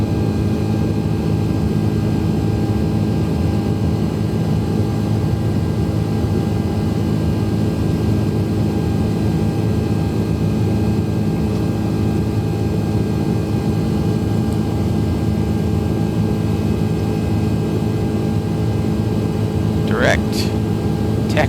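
Airbus A330 jet engines in Microsoft Flight Simulator give a constant loud, deep roar and whine that holds steady throughout. A brief rising tone appears near the end.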